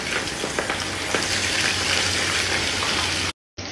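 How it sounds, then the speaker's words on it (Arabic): Fish frying in very hot oil for Bahraini machboos, a steady dense sizzle that stays close and loud throughout, then cuts out briefly near the end before resuming. "السمك بس اهم شيء انه ينقلي من برا يصير ذهبي حلو"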